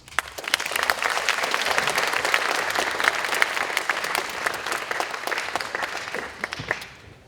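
An audience at a memorial lecture applauds to welcome the guest lecturer, a full, steady round of clapping that swells, holds for several seconds and then thins out and fades near the end.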